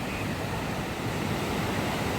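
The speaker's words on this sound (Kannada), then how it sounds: "ಏನು ಸೌಂಡ್ ಬರ್ತೈತೆ ಅಂದರೆ ಬೀಚು ಸಕ್ಕತ್ತಾಗಿ ಬರ್ತೈತೆ ಅಲೆಗಳು" Ocean waves wash onto a beach at Murudeshwar, forming a continuous, dense roar of surf with a wind-like hiss. The sound stays loud and unbroken throughout, with no voices.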